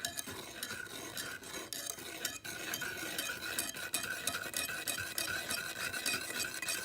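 A whisk stirs a liquid mixture in a single-serving Chinese dish, giving a steady, close scraping and swishing with quick rhythmic strokes and no one talking.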